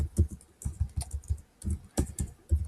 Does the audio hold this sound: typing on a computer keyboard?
yes